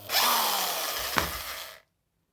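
A Parkside cordless drill motor whirs steadily for nearly two seconds with a plumber's wrench attached to loosen the chuck, a sharp knock partway through, then it stops abruptly into silence.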